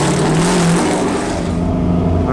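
A BMW car fitted with a 632 big block engine drives along, its deep engine drone steady and loud throughout with a slight shift in tone partway through.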